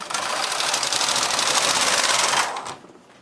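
A knitting machine carriage knits rows of ribbing at tension 2 for a golf club cover, giving a loud, steady, fast rattling whir for over two seconds before it slows and fades out.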